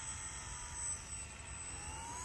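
Esky 300 V2 mini six-channel 2.4 GHz remote control helicopter hovering, giving a steady high-pitched rotor and motor whine with a constant airy hum, near and unbroken throughout.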